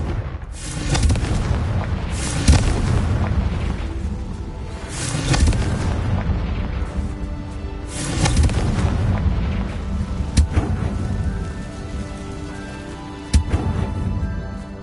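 Repeated booming blasts from the Confringo fire spell in Hogwarts Legacy on PS5, several loud, heavy explosions with rumbling tails landing every few seconds amid ongoing gameplay noise.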